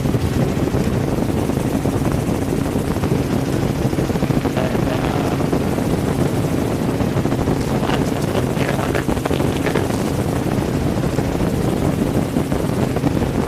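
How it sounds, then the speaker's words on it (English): A helicopter flies near a shoreline by an island channel in strong wind, its steady loud rotor drone mixed with heavy wind buffeting on the microphone throughout. "We're having a bit of trouble keeping the helicopter a little bit off the shore there."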